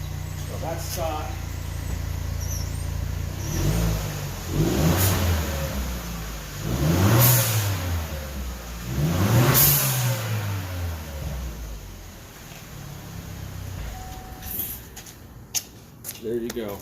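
A stock-exhaust Chevy Cruze 1.4T Gen1 revs up three times in a row, each rise and fall of the engine loud and close, settling back to a steady idle between and after the bursts.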